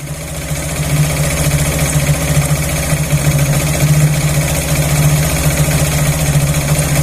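A motorcycle engine runs steadily at a raised idle during a mileage adjustment, its even, buzzing drone loud and close, rising slightly after the first second and holding without speech.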